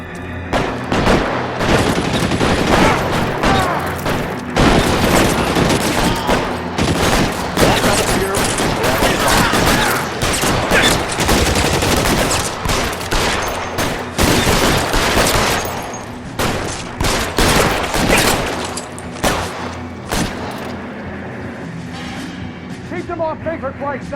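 Dense gunfire in an L.A. Noire shootout, rapid overlapping shots and heavy booms nearly nonstop, loud and close, with shouted voices mixed in.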